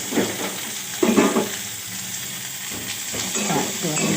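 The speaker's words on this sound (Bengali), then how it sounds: "বরবটি শিম দিয়ে ভালো করে ভেজে" Yardlong beans and flat beans frying in a pan, a steady close sizzle with stirring scrapes and bumps, loudest around the one-second mark.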